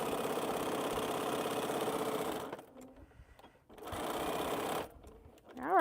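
Sewing machine backstitching a quilt, a fast mechanical whirring run that stops, starts again briefly, then stops, heard up close and alone.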